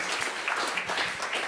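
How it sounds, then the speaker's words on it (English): A conference audience claps for startup presenters at a tech talk, a short burst of dense, overlapping applause. "can we give them another round of applause?"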